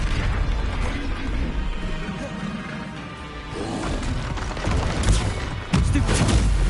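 Spell-combat effects from the Hogwarts Legacy video game, with an Expelliarmus disarming spell cast amid a dense, continuous wash of crashing, bursting magical impacts, louder bursts near the end.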